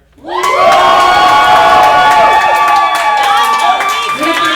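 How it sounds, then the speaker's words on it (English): A live podcast audience in Denver bursts into loud cheering and whooping after a brief silence, many voices shouting together close and sustained, with scattered claps mixed in. "if we think Chaunce can do it for a year, go ahead and cheer."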